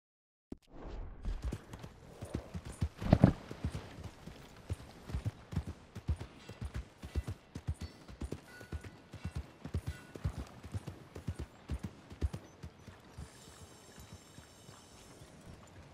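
Horse hooves clip-clop at a steady walking pace in a video game, close and fairly quiet, with occasional louder knocks.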